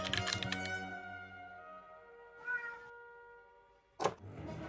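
A cat meows, heard against a steady droning musical background, with a brief sharp clatter near the end.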